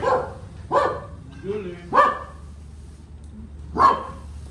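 A dog barks four times at irregular intervals, each a short close bark, over a low steady background hum.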